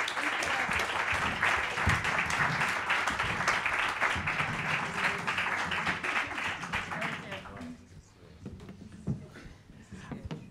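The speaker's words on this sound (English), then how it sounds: "So let us welcome, with a warm applause, Alexa Clay and Marek Tuszynski." An audience at a talk applauds as two speakers are welcomed onto the stage, with steady, dense clapping at moderate level that thins out and fades after about eight seconds, leaving scattered claps and quiet room sound.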